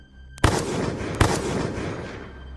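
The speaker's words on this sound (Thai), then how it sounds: "เสียงปืนลูกซองดังขึ้นสองนัด จากปืนทั้งสองกระบอก" Two loud shotgun shots from two guns, a little under a second apart, each followed by a long rumbling echo that fades away.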